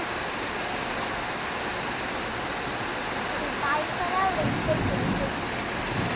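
Heavy rain pours down steadily outdoors, a dense even roar of falling water on surfaces, with faint thunder-like rumbles and a few brief sounds rising in the middle.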